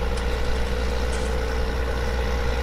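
A heavy farm vehicle engine in the video game Farming Simulator 19 drones steadily at a low pitch as it slows down, a continuous mechanical hum with no voices.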